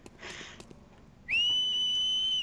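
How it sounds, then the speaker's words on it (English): A person whistles a single sustained high note that rises and then holds steady, clear and fairly close, after some faint indistinct noise and background sounds. "Who's whistling?"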